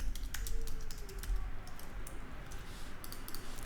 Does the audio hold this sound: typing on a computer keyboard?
yes